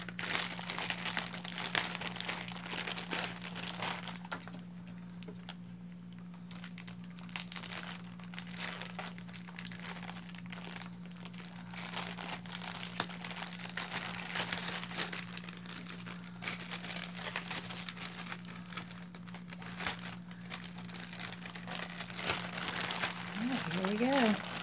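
Tape-covered shipping package being torn open, with continuous crinkling and ripping of tape and cardboard, close and fairly quiet, over a steady low hum.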